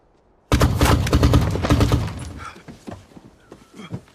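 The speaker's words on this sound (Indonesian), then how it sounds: "ternyata Marco dan teman-teman barunya justru tewas ditembak oleh Zamba dan pasukannya." Film shootout scene with dense, loud bursts of gunfire for about a second and a half, thinning into scattered shots and impacts.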